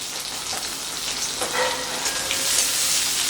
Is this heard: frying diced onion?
yes